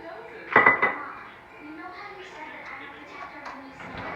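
Food being stirred in a pan with olive oil while shrimp cooks for shrimp Alfredo, with a burst of pan and utensil clatter early on, then softer scraping and clinks under ongoing room noise.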